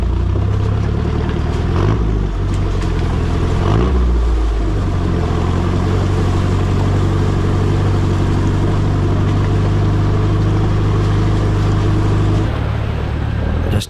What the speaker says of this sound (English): Can't get over how good the Demand exhaust sounds.